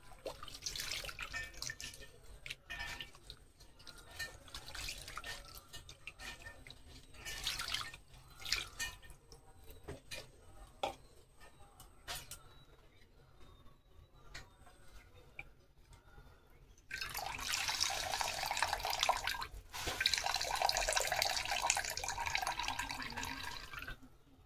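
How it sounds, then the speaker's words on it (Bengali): Cold tap water runs and drips over chhena, the fresh cottage cheese, in a sink, with intermittent trickles and splashes early on and a louder sustained gush of water toward the end, no talk. "আমি এখন এই ছানাটা একটু ঠান্ডা জল দিয়ে নেব।"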